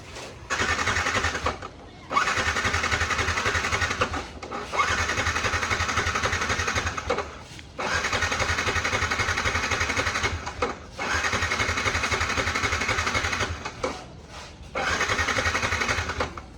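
A Yamaha R1 motorcycle that has sat unused for many days is cranked repeatedly by its starter, five long whirring bursts separated by brief pauses, loud and close, never catching.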